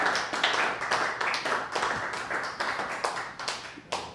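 Audience applause at the close of a talk on an archival sound recording society's first compact disc release, a dense, steady clapping of many hands lasting about four seconds with no voices over it.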